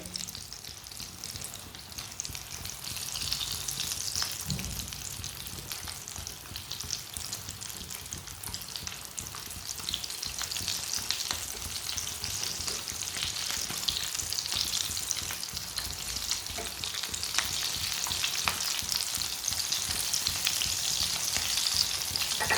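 Aloo matar tikki, potato and pea patties, fry steadily in a pan with a continuous close sizzle and crackle that swells slightly louder toward the end.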